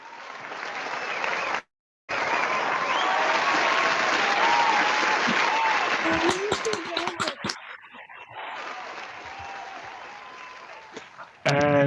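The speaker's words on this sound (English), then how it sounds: "I think that deserves a round of applause." Applause fills a university history department awards ceremony as an untenured faculty member is honored: a sustained crowd clapping, briefly cut out for a moment, then thinning into scattered claps with some talk before a last short burst.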